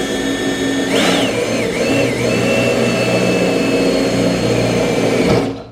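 A drill fitted with a step bit bores through the metal hood of a 2020 Toyota Tacoma, a loud continuous whine that rises and dips in pitch as the bit bites, then cuts off abruptly at the end.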